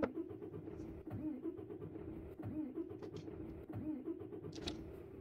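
A truck engine in Euro Truck Simulator 2 starts and settles into a steady, low rumbling idle, moderately loud and continuous with slight pulsing, with no talk over it.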